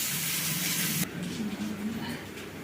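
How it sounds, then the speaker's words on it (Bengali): Onions frying in a pan give a loud hissing sizzle for about a second, then drop to a quieter bubbling crackle while a voice murmurs low beneath it. "পেঁয়াজটা ভেজে নেব।"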